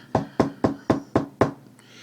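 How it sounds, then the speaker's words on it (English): Six evenly spaced, sharp knocks on the front door of a neglected house, loud and close, each with a brief ring-off, and no voices. "He knocked on the door."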